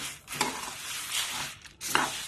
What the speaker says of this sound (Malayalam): ചെറുതായിട്ട് മല്ലി ഇങ്ങനെ പൊട്ടി പൊട്ടി വരാൻ തുടങ്ങും പൊട്ടിത്തെറിക്കാൻ തുടങ്ങും